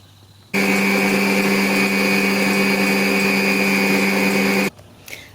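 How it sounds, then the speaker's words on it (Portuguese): An electric mixer whirs steadily at high speed for about four seconds, beating egg whites with yolks for a sponge cake batter, starting and stopping abruptly, loud and close with no voices. "Vou adicionar as gemas uma a uma e bater vagarosamente."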